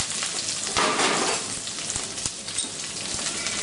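Cabbage, carrots, onions, mushrooms and butternut squash stir-frying in a pan, a steady loud sizzle with occasional clinks and scrapes of stirring, no voices.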